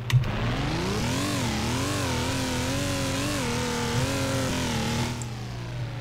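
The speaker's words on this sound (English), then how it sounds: "Loud engine sounds." A tank engine in Garry's Mod revs loudly and steadily, its pitch rising and falling in smooth waves over a low rumble, then settling down near the end.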